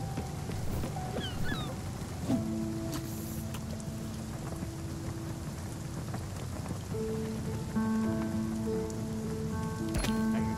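Steady rain pattering on surfaces in the video game Spiritfarer, a continuous wash heard while fishing, with soft tonal game music notes drifting in and out and no voices.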